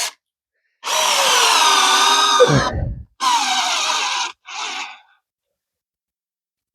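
A power drill bores into a wooden railway sleeper in three bursts, a long high whine that drops in pitch as the bit bogs down, then two shorter runs, loud and close with no talk.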